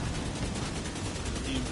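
Gunfire in The Division 2 video game rattles in a dense, continuous burst of rapid shots, loud and close, with no gaps across the short stretch.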